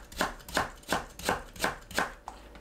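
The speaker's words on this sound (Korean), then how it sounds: "당근을 곱게 채 썰어주세요" Knife finely julienning carrot on a cutting board for a shishito pepper stir-fry, six crisp, evenly spaced chops about every 0.37 seconds, close and clear with no talking.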